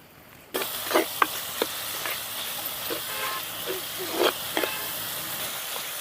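Chopped tomato, curry leaves and dried red chillies sautéing in ghee for sambar rice. A sizzle starts suddenly and holds steady, with spatula scrapes and knocks at uneven intervals.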